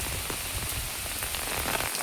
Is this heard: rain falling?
yes